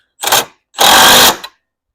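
A power tool tightens bolts on a homemade Jeep XJ bumper in two loud bursts, a short whir and then a longer one of about half a second, close up, with no talking.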